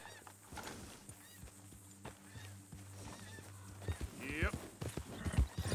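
Horse hooves clip-clop with a neigh partway through, from the Red Dead Redemption 2 game world, heard under game ambience and a man's brief spoken reply.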